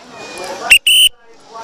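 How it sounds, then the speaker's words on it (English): A whistle blown at a radio-controlled car world championship race meeting: two sharp, loud blasts close by, a short chirp then a longer shrill tone, cutting through crowd chatter and talk. "We heard a little whistle"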